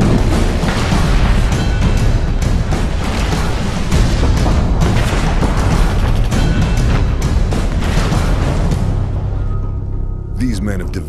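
Incoming fire and explosions in the war video game Operation Flashpoint: Red River set in Tajikistan form a loud, dense continuous roar of booms and gunfire that tapers toward the end, with speech over it.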